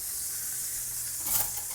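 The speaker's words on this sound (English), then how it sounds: "And see, as you can see, it's frying." Wild turkey pieces frying in a pan, Southern style, giving a steady close sizzle with soft hissing that swells briefly near the end; no voices.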